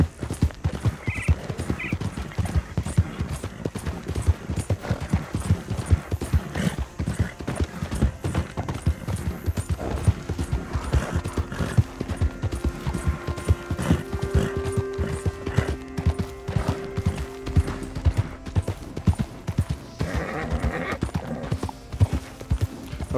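Horse hooves clip-clop steadily and loudly in Red Dead Redemption 2, a continuous rhythmic trot running throughout with a brief whinny-like sound and faint background tones.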